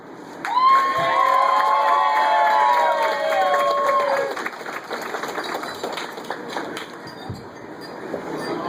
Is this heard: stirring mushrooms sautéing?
no